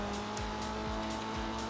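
Annis 300R driving and cornering in a racing video game, its engine droning steadily with a rising, repeating low rev sweep and faint tyre noise, loud and continuous with no talk.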